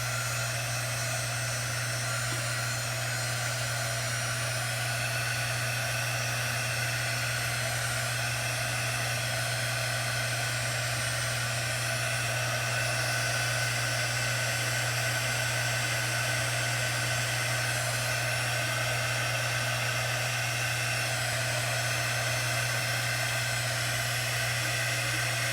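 A hair dryer blows steadily at close range over a chalk-painted craft project, its whirring motor and rushing air holding one constant drone with no pauses or talk.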